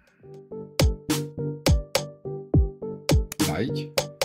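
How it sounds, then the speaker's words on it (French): Short channel jingle in a rhythmic pattern of punchy percussive hits with tonal notes, about a dozen evenly spaced beats, loud and up front, with a busier flourish near the end. "Allez, jingle."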